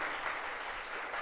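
Church congregation clapping during a family worship service, a short steady wash of many hands with no voices over it.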